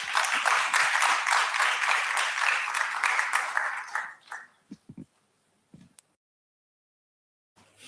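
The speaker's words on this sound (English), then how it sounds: "Can we give him another round of applause?" Loud, steady audience applause after a conference presentation at an HIV health event, sustained for about four seconds before fading into a few scattered claps and then near silence.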